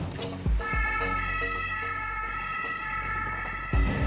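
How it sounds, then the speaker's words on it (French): An ambulance leaving a parking lot: its wailing siren holds a steady high tone with a low engine rumble beneath, punctuated by two heavier thumps near the start and end. "À bord de cette ambulance, qui s'apprête à quitter le parking, Marion et son coéquipier, Florian."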